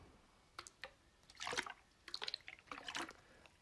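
Small wet sips and slurps of water from a bottle, close and soft, coming as a few short bursts with quiet pauses between them in an intimate ASMR setting.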